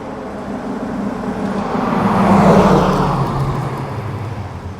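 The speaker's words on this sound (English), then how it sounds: "You can see that bridge with cars going over that." Cars crossing the Sherman Street Bridge, heard from nearby as a steady traffic rumble that swells as a vehicle passes in the middle and then eases off, with no talking.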